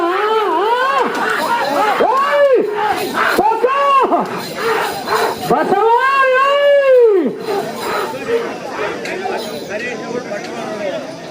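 Loud, rising and falling shouts and yells from a crowd at a bull race in the Bhakarapeta jackpot category, continuous and near for the whole stretch with strained, wavering cries.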